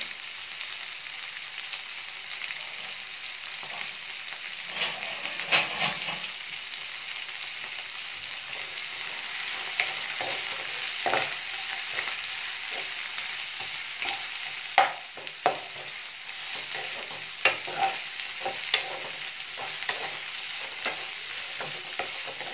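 Macaroni frying in oil in a pan, a steady low sizzle with occasional clinks and scrapes of stirring, continuous and fairly quiet with no talk.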